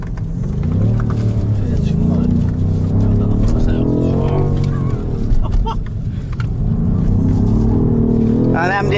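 A two-wheel-drive BMW M5 Competition engine drones and revs loudly and continuously during a wheel spin, heard close from inside the car while people talk over it.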